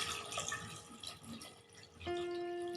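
Water is poured into a pot of Kerala mutton curry to cook the meat. A quiet trickle and scattered drips come from close by, with no talking.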